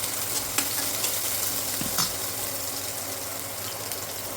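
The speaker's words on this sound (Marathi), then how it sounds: "आता मी इथे टाकणार लसूण आणि कांदा." Garlic and onion frying in a pan while cooking mung bean usal, a steady close sizzle with a few stirring scrapes and clicks, quiet and with no talking.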